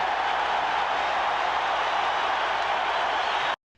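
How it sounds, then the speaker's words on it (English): An arena crowd at Game 2 of the 1991 NBA Finals applauds a play by Pippen, a steady, dense roar of clapping and cheering that holds at full strength and then cuts off abruptly. "Crowd applauding the efforts by Pippen."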